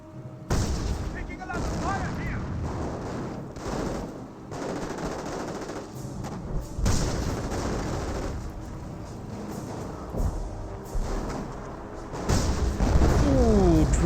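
Artillery rounds and machine-gun fire crash over infantry in the Company of Heroes battle game, dense and loud explosions and bursts throughout, with a commentator talking over the din.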